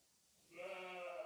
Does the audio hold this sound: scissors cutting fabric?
no